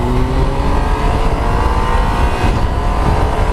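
A 2018 Triumph Tiger 800 engine drones loudly and steadily while the bike is ridden, with a constant close engine note and rumbling wind noise and no pauses.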